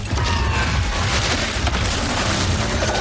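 Bombs go off in Ratchet & Clank Rift Apart as a dense, loud, sustained boom and rumble. Crackling bursts continue for the whole few seconds with no clear gaps.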